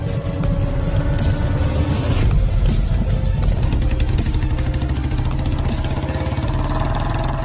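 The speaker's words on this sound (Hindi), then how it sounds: "इसके बाद बाबा बाइक को स्टार्ट करते हैं और स्टंट मारते हुए वहां से गुल्ली को लेकर काफी स्पीड में निकल जाते हैं" A cartoon motorcycle engine runs steadily and loudly, rumbling with clattering mechanical texture throughout, with no voices over it.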